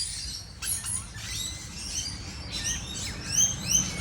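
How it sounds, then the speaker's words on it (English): Birds chirp and tweet outdoors in an Australian summer, heard from inside a parked car, with bursts of high calls scattered over a soft steady background and a few louder near chirps toward the end. "I'm sitting in the car listening to the birds outside"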